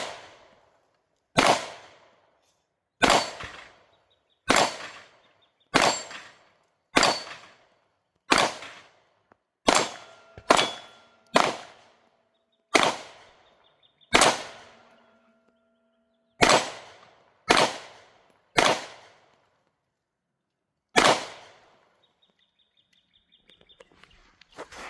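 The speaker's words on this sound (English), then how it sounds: "with the Canik Prime on the steel shot" Shots from a Canik Prime pistol ring off steel targets: about fifteen sharp, loud reports, evenly spaced roughly a second or two apart, each followed by a brief metallic ring, with no talking.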